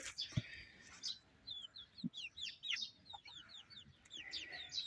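Chicks and chickens in a yard make rapid, repeated high peeping chirps with a few lower clucks, fairly soft and close.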